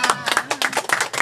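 Clapping from an audience honoring women farmers' groups at a community gathering, rising in several bursts over a short span, with voices or cheers mixed in among the hands.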